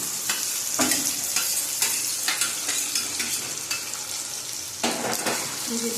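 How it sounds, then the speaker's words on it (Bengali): Chicken with onion and slit green chillies frying in a pan for chicken kosha, a steady close sizzle broken by sharp stirring scrapes and occasional pops. "ভেজে দিচ্ছি আমি"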